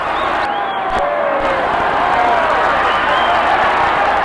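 A boxing arena crowd in San Diego roars continuously through Muhammad Ali's 1973 bout with Ken Norton, with loud sustained cheering, applause and whoops filling the hall and rising whistle-like yells weaving through the dense, steady noise.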